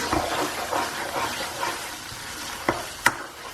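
Sambar powder masala with tomato and salt sizzles softly in a frying pan while it is stirred. Two sharper clicks of the utensil on the pan land near the end, with no one speaking.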